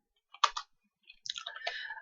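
Typing on a computer keyboard: a few soft, close clicks come in two short bursts separated by a brief pause, quiet against a silent background.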